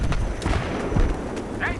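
Booming blasts and gunfire-like bangs from the video game Battlefield 3, with voices talking over the action.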